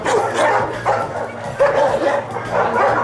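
A dog at an animal shelter barks repeatedly at close range in a steady rhythm of sharp, yappy barks.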